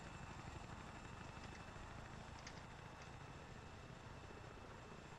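A helicopter in the ARMA 3 game drones steadily while towing a jeep, its rotor and engine producing a continuous broadband whir, faint and unbroken, with no talk.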